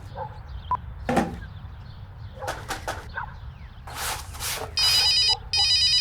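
A telephone rings in short electronic bursts near the end, two clear rings separated by a brief gap, after some scattered clicks and rustling.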